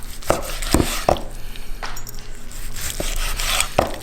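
A knife chops down through food onto a cutting board in a handful of sharp, separate knocks spaced unevenly, close and fairly loud, with no talking.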